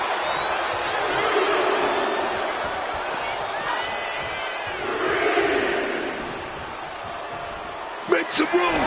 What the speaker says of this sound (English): However you feel about Seth Rollins, he knows how to get the crowd going